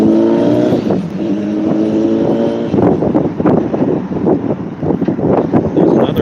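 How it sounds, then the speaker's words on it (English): A Nova bus passes through a city intersection, its engine droning and rising under heavy wind buffeting on the microphone, with traffic rumbling close by. "There's another Nova bus"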